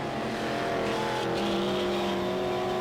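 Speedway race cars at Waikaraka Park roar through a teams nationals race, engines droning loud and steady with rising revs, one car's left rear tyre shredded.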